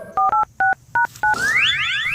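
A telephone keypad dialed in a comedy sketch: five distinct two-tone beeps in an uneven rhythm, followed by a rising warbling ring tone, loud and close with no talking.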